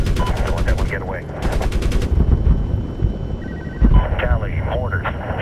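Gunfire and missile fire from a helicopter gunship in the Medal of Honor video game, with sharp bursts of rapid shots in the first two seconds over a constant engine drone, and radio voices talking throughout.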